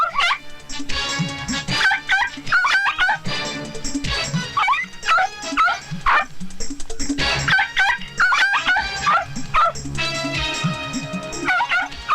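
Dogs bark and yip loudly in a Bollywood action movie scene, the excited barking repeating in busy bursts against music and other sounds of the scene.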